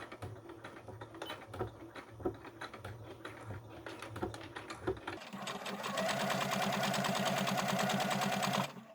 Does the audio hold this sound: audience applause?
no